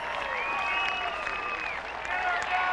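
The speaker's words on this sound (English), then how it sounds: "Listen to the crowd." A golf gallery applauds and cheers as a popular player closes in on his first Champions win, a steady roar of clapping with whistles and voices riding over it.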